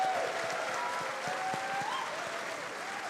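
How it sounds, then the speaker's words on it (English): A round of audience applause at TennoCon 2025, steady and fairly quiet, sustained throughout with a faint tone drifting underneath. "We're going to give a little round of applause for our character artists here as well"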